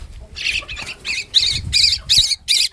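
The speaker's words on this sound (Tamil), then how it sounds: "நம்ம கூண்டில் மைனா குஞ்சு வந்துருக்கு." A young myna chick begs for food with a string of about seven harsh, scratchy squawks, loud and close, coming in quick, uneven bursts with no talk over them.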